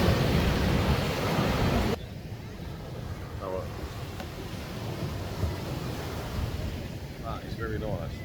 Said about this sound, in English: It's been very, very windy.